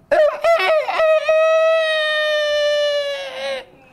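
A rooster crows loudly and close up, with a few choppy clucking notes first and then one long, drawn-out crow that fades at the end.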